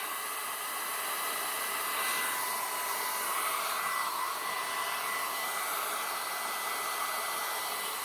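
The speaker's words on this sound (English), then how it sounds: "I have to remember to move my hairdryer away." A handheld hair dryer blows continuously near an artist working alcohol inks on a ceramic tile, a steady loud airy whir with no pauses and no one talking.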